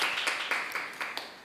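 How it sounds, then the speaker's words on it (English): An audience at a school debate claps briefly and faintly in a short, scattered patter of separate hand claps. "Let's give them a warm round of applause."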